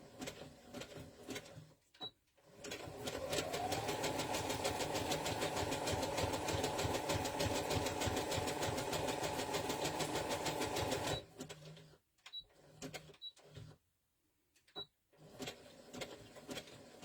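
A sewing machine runs a wide zigzag stitch, a fast steady mechanical whir and rattle lasting several seconds before stopping, framed by quieter handling clicks and short starts.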